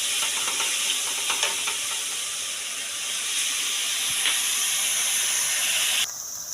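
Onion, beans, carrot, ginger and green chilli sauté in a pan for wheat rava upma, giving a steady, close, bright sizzle and hiss throughout with faint stirring scrapes, softening abruptly near the end.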